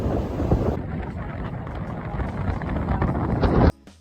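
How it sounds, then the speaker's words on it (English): Strong wind blowing on a beach at Garden City and Surfside, roaring and buffeting the microphone in a dense, steady rush that cuts off abruptly near the end. "the wind just kept getting worse and worse"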